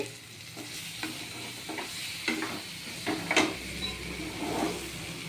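A spoon stirs prawn malai curry masala in a pan, producing soft scraping strokes at irregular intervals over a low, steady sizzle, close but fairly quiet, with no talking.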